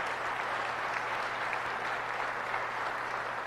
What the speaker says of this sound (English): So I want to give a round of applause to Governor Brad Little, who's joined us.